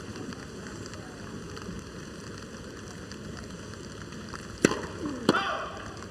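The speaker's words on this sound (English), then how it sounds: "So he's not happy playing in the rain, Murray." Rain falls steadily during a clay-court tennis final in Rome, a constant soft hiss under a faint broadcast background, broken near the end by two sharp, close impacts.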